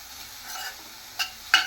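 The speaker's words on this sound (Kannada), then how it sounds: "ಬೆಳ್ಳುಳ್ಳಿ, ಶುಂಠಿ ಮತ್ತು ಹಸಿಮೆಣಸಿನ್ಕಾಯಿನ ಇವಾಗ ಹಾಕ್ಕೊಂಡು ಫ್ರೈ ಮಾಡ್ಕೊತಾ ಇದ್ದೀನಿ." Ground garlic, ginger and green chili paste fries in a pan with a soft, low sizzle, broken by two sharp scrapes of a spoon stirring it.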